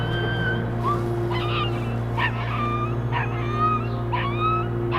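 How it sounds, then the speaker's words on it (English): Puppy whimpering and dogs yipping and squabbling over it: a series of short high whines and yelps, moderately distant, over a steady low mechanical hum. "I think they're all fighting over a puppy."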